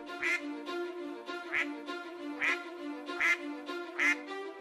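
A cartoon goose honks five times in an even rhythm, each call nasal and clear over a soft steady background tone.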